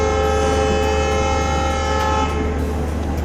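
A train at Guwahati railway station sounds a loud, sustained horn with rich steady tones over a deep engine rumble, close and continuous throughout.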